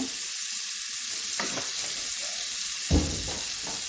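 Oil sizzles and hisses steadily in a pan while frying for an Ethiopian kibbeh-style meat dish, with a few louder bursts of crackle and stirring, close and continuous, no talking.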